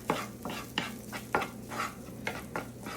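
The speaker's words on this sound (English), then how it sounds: "I'm doing this like a stir fry now and just gonna cook everything quickly, keeping it moving around." Rice stir-fried in a pan with miso and butter: a steady sizzle under repeated scraping stirs of a utensil, about every half second, close and moderately loud.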